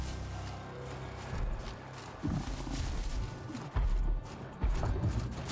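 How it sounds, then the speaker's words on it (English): A Bellowback machine in Horizon Zero Dawn stomps around at middle distance, heavy thuds landing irregularly over a steady low outdoor rumble with a few sharp impacts. "I'm hearing something stomping around."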